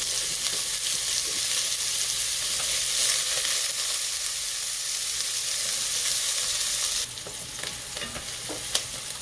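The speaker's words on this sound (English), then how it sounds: "we're just going to saute these onions up to get them nice and tender" Onions sauté in a pan over a lowered flame for baked spaghetti, with a loud, even sizzle and occasional stirring scrapes, and no speech.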